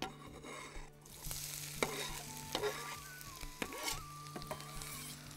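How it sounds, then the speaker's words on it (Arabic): Onions fry in oil in a pan for a herring pasta, a continuous close sizzle broken by several scraping stirs and light clinks of a spoon against the pan. "ده البصل ده نحطه كده في الزيت ادي ايه زيت ننزل البصل ده"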